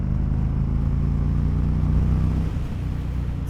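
A 2022 Indian motorcycle pulls hard in fourth gear, its steady engine drone rumbling loud and close with no break, then easing slightly near the end as the throttle backs off.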